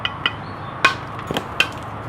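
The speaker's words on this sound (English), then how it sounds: "Get some more hammer blows right in here." Sharp metallic hammer strikes on a ZT 0180 knife blade in a destruction test ring out at uneven intervals, about half a dozen blows, close and loud with short ringing decays.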